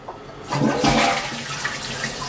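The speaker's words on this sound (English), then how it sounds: "What's weird about Japanese toilets is that when you flush," A Japanese toilet in a dorm bathroom flushes with a sudden loud rush of water that keeps swirling and draining steadily, close by with no talking.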